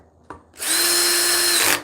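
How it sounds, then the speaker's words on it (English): A power drill drives a screw into white metal with a clutch setting, giving a small click and then a steady, close whine that runs for about a second before spinning down. "always make sure you have the clutch on for your drill when you're using these power tools on these things"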